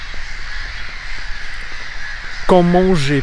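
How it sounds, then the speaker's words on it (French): Seagull-like gull calls with strong harmonic cries burst in near the end over steady outdoor background noise in Russia, close and loud, with a voice talking underneath. "Mouettes. Voilà qu'est-ce que c'est."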